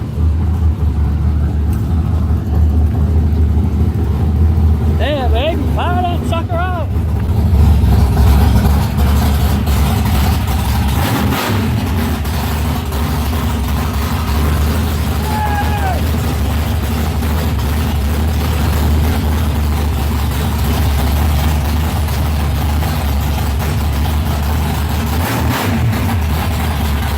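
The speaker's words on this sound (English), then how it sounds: "Living beside a race car." A race car engine fires up and settles into a loud, steady idle with a deep, continuous rumble, close by, with brief whistle-like squeaks early on.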